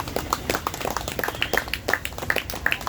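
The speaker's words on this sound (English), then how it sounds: "Can we have a one round of applause for all the 4 swimmers today?" Audience at a Toastmasters club meeting clapping for the four swimmers, a scattered round of applause with many distinct claps, moderately faint and steady across the whole stretch.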